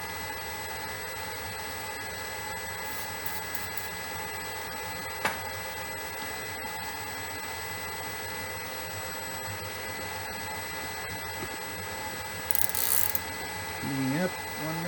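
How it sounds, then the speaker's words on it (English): A milling machine hand-fed through a 1 mm deep slot cut, a steady mechanical drone with gear whine and faint cutting chatter running throughout, plus a brief higher rattle near the end. "So we've been milling 1 millimeter depth of cut, just taking it easy. I'm hand feeding it."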